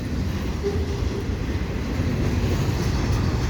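A CP freight train crosses from track 1 to track 2 at Dorval, giving a continuous low rumble and rolling noise that stays steady and fairly close, with no voices.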